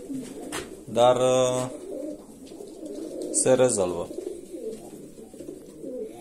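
Domestic pigeons coo twice in a loft after deparasiting and their first vaccine, loud and near. Someone speaks briefly over a background of bird noise.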